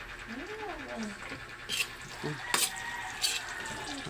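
Cabbage and pechay Baguio being stirred in a frying pan, with soft scraping and a faint sizzle under a voice, and a few sharper clinks of the utensil against the pan.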